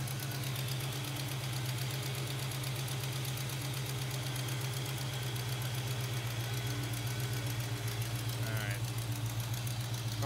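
A revived 1970 Oldsmobile Cutlass, abandoned for 15 years, runs with a steady low rumble and some knocking throughout, close and continuous, while people talk over it.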